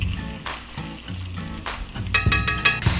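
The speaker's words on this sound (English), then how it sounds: "I have our chicken here frying" Country-fried chicken pieces sizzle steadily in a hot pan alongside kale greens, a constant close crackle with brighter spits and a few clinks of utensils toward the end.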